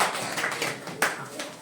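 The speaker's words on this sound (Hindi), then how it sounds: "जोरदार ताली बच्चे के लिए" A short burst of classroom clapping from a group of students for a student, brisk and fairly close, with some room noise around it.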